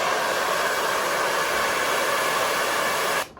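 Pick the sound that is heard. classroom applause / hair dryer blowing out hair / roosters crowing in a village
hair dryer blowing out hair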